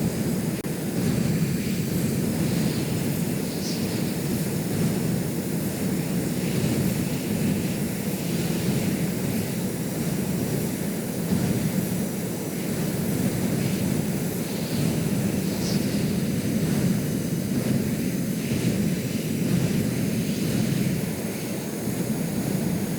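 A game aircraft in Stormworks gives off a steady low engine drone with a rushing, wind-like wash over it, constant and unbroken for the whole stretch, with no speech.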